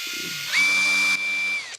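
A power drill set to hammer mode whirs up with a steady high-pitched motor whine for about a second, then winds down, heard close and alone.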